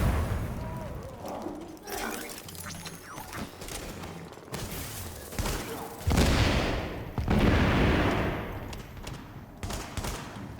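Shotgun fire in The Division video game, heavy booming blasts at close range mixed with other gunfire and mechanical clatter, bursts spread across the span, with voices faintly under the combat.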